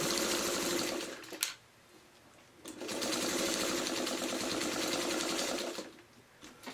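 A sewing machine stitches a quilted pot holder in two steady running bursts, the whirring motor separated by a short pause while the fabric is repositioned.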